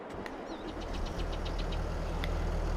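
A tractor engine runs in Farming Simulator 22, a steady low mechanical drone with a faint rhythmic knock and a few light clicks over it, heard alone at moderate volume.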